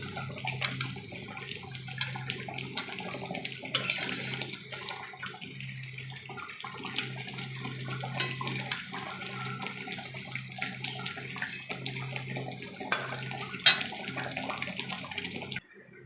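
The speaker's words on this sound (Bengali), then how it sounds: "দেখো, আমি একটা পাত্রে তোমাদেরকে ঢেলে দেখাচ্ছি।" Doi katla, a Bengali fish curry in yogurt gravy, is poured into a bowl, producing a soft continuous liquid splashing and trickling with faint clinks, fairly quiet and without speech.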